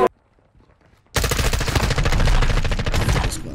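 An M4 rifle in Modern Warfare II fires a sustained burst of rapid automatic shots. The loud, dense rattle starts abruptly after a short quiet pause and keeps going.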